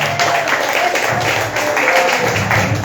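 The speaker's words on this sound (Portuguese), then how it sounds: "Palmas e glória para Jesus" Church congregation clapping in steady, dense applause through the whole stretch, a broad continuous patter of many hands at moderate loudness.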